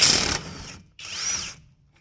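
An impact wrench rattles on the lower strut bolt of a 2014 Ford Fusion, one loud burst that fades, a short gap, then a second, shorter burst with a rising-falling whine.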